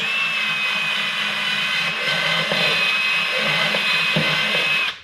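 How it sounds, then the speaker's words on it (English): A power drill boring a pilot hole to install a door security lock whines at a steady high pitch for several seconds, close and loud, then stops abruptly. "next you're going to want to drill a pilot hole right where that is."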